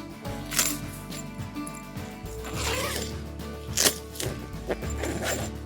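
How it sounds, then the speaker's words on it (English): Zipper on the side of a Night Cat lay-flat hammock tent drawn open or shut in several close, rasping pulls with brief pauses, loud and alone. "Got a zipper on both sides."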